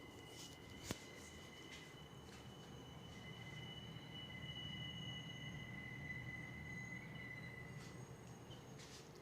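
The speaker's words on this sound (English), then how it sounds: "I hear the sounds of the train" A train rumbles past steadily for several seconds, its wheels squealing in high, drawn-out tones over a low rolling roar, with one sharp clank early on.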